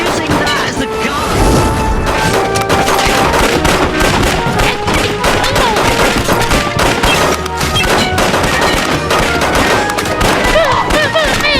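Dense, loud gunfire in the VRChat virtual-reality game, with rapid overlapping shots and thumps crackling without a break.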